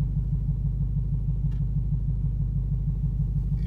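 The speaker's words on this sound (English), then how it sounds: "Boy, do you hear the rumble? The rumble of the car is so much different than the Hellcat." A 2019 Dodge Challenger SRT Hellcat Redeye Widebody idles with a deep, pulsating low exhaust rumble, steady and close, with no revving and no talk.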